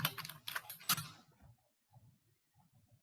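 A computer keyboard tapped in a quick burst of keystrokes while entering a search term, crisp clicks clustered at the start and then fading into a few soft, sparse taps and faint background murmur.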